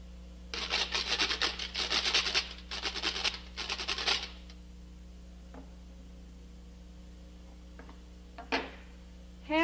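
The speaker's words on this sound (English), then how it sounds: "Grater." A kitchen grater is rubbed in several quick bursts of harsh rasping strokes, close and loud, then stops, leaving a faint hum with a couple of brief scrapes near the end.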